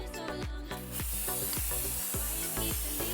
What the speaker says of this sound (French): On secoue bien la bombe et on passe le velours.